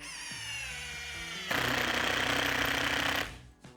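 A Procraft Industrial cordless impact driver sinks a 100 mm black screw, first a steady motor whir, then loud rapid hammering impacts for about two seconds before it winds down.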